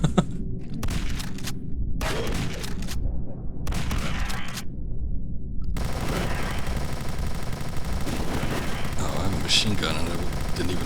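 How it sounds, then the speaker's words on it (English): Rapid machine gun fire in the retro-style shooter Zortch, sustained bursts broken by short pauses, then a longer continuous stretch of shooting mixed with game music and effects. "Machine gun and I didn't even realize it."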